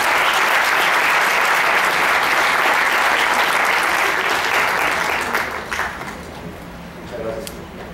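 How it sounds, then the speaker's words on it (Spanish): Audience applause fills a hall at a national chemical engineering education forum, a dense sustained clapping that holds steady, then thins and fades toward the end. "Le damos un aplauso."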